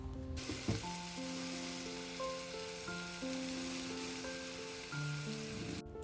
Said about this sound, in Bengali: এখন শুধু এক্সট্রা করে এই স্যামন ফিশটাকে একটু গার্লিক আর বাটারের মধ্যে সতে করে নেবো